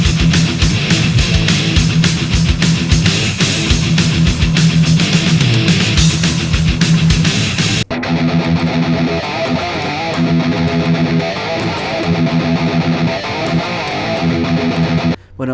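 Distorted electric guitar plays a loud, dense, continuous rhythmic riff, shifting to a sparser, darker section partway through, with no talking.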